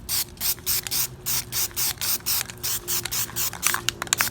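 Short bursts of automotive grade primer from a spray can, applied as light coats to Traxxas UDR hub caps; a dozen or so quick hissing sprays in an uneven rhythm, close and fairly loud, with no talking.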